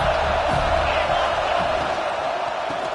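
A stadium crowd roars steadily in a college football video game, Clemson against Florida State, a dense continuous wall of cheering at the start of the second half.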